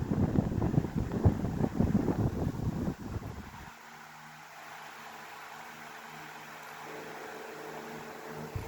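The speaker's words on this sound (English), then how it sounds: "This fan's really strong." A 1980s Tatung 16-inch oscillating table fan, model LB-116, runs on high speed, giving a steady airy whoosh with a low motor hum; buffeting, louder rushing air in the first three seconds then settles to a smoother, quieter hum.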